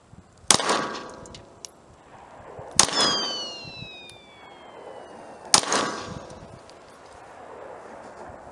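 A SCCY CPX-2 pistol fires target rounds downrange: three sharp, loud shots spaced a few seconds apart, each followed by a ringing decay, with quiet outdoor ambience between them.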